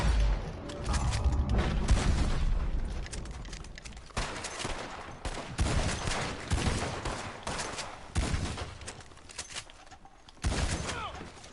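Repeated bursts of gunfire from a firefight in the Red Dead Online game, with volleys of shots and sharp booms rattling back and forth over several seconds, loud and close, with sporadic pauses between exchanges.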